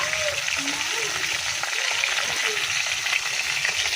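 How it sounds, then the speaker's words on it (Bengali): Fish fries in a pan with a continuous close sizzle and crackle, while faint voices can be heard in the background. "এই যে মাছ ভাজা"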